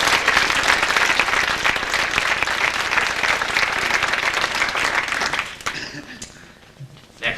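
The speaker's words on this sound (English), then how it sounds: "How about a nice round of applause for all of them?" An office audience applauds newly promoted employees at a staff announcement, a loud sustained round of clapping that fades out near the end, leaving a quieter room with a brief sound at the close.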